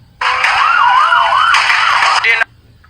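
An ambulance siren wails loudly and close by, sweeping up and down in pitch for about two seconds, then switches to a faster warble before cutting off.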